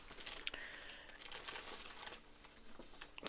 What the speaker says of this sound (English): Crinkling away down there as well.